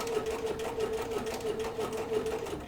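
A sewing machine stitches appliqué poppies onto quilt fabric, its needle running in a fast, steady mechanical hum with a constant rapid rhythm and no talking.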